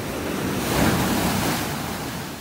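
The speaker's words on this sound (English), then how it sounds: "I'm just up here taking in the waves up in Area 5. Wow, they're really breaking up here." Ocean waves break on a beach in North Naples, Florida, a continuous loud wash of surf that swells and eases, with wind buffeting the microphone and no voices.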